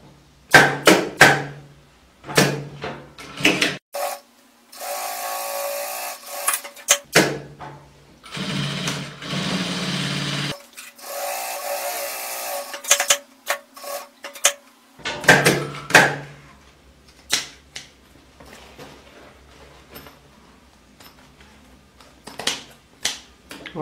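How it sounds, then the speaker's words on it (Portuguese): A sewing machine stitches fabric for a makeup bag in several runs of steady, whirring mechanical chatter, separated by pauses, clicks and handling knocks. "E vou costurar."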